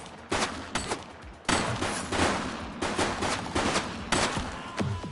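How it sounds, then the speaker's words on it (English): Gunfire in the police game The Precinct, repeated loud bursts of close shots cracking every half second or so, with sharp attacks and short decaying tails, no talk over them. "He's shooting!"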